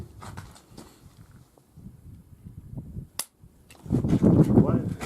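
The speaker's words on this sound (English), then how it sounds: "last one for the Smith & Wesson M&P 9. Again, we're going to use the Fiocchi subsonic ammo, and we are with suppressor" A suppressed Smith & Wesson M&P 9 pistol fires Fiocchi subsonic ammunition in a single sharp, close crack, set among quiet rustling and handling noise with louder movement afterward.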